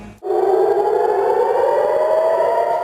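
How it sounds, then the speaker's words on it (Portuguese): Civil defense sirens wail across southern Israel, a loud, sustained rising tone that starts abruptly after a brief silence and holds steady without any talk. "no sul de Israel, as sirenes voltaram a tocar"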